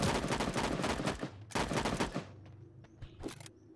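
Gunfire from the Sausage Man video game, loud rapid automatic spraying in dense bursts that break off, leaving a few scattered shots and clatter, with no voices.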